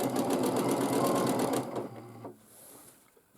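A sewing machine quilts fabric in a steady, close, fast run of stitching for about a second and a half, then stops, leaving only faint handling noise with no talk.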